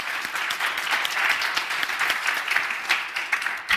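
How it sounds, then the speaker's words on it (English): Steady, loud applause from an audience honouring an orchestra after a performance at a science talk, continuous dense clapping throughout with no pauses. "maybe we do just give you one applause for the orchestra because you really deserve it"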